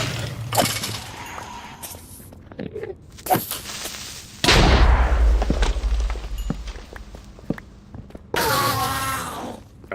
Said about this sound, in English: Aggressive explosion.